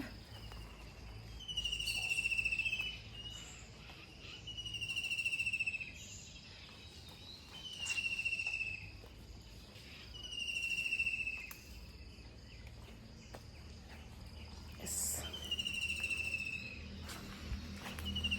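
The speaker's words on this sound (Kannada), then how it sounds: "ಹಕ್ಕಿ ಶಬ್ದ." Outdoors in a quiet rural garden, bright chirping calls of birds and insects repeat in regular bursts every few seconds over a soft, steady background.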